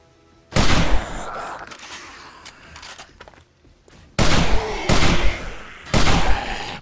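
Gun firing in the 7 Days to Die video game: several heavy, loud blasts, the first long and booming, then three more in quick succession with lingering rumble between.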